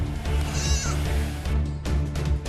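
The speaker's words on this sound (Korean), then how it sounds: "우리의 양과 염소들이 일제히 울기 시작했다" Sheep and goats in a pen on a Mongolian nomad's winter pasture bleat together in a loud, overlapping chorus, several animals calling at once in repeated bursts, close by.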